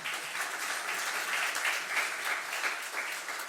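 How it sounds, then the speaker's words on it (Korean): A church congregation applauds during an Easter intergenerational worship service, a steady wash of clapping from many hands that holds at an even level throughout. "박수 한번 해주세요"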